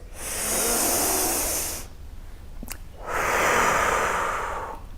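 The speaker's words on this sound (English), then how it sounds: "we're going to breathe in through our nose, out through our mouth" Slow, deliberate breathing during a guided fitness exercise: a long, loud airy inhale through the nose, a brief pause, then a long whooshing exhale through the mouth, close and alone.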